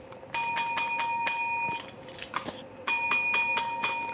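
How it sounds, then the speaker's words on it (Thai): A clear bell rings alone in two bursts of rapid, bright strikes separated by a brief pause, close and loud with a metallic ring like a bicycle or desk bell. "ฉันอยากกดกระดิ่ง"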